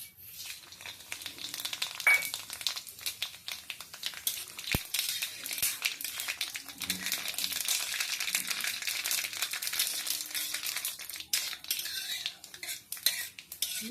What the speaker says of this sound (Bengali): ফোড়নের মধ্যে এই যে দেখে নিন, সর্ষে, জিরে আর হচ্ছে শুকনো লঙ্কা, এই আমি দিচ্ছি ফোড়ন